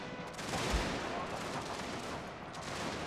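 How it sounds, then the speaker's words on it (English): Dragoons firing their guns in a strategy video game, a dense rolling crackle of musket volleys over continuous battle noise, sustained and fairly loud throughout. "Dragoons firing over here."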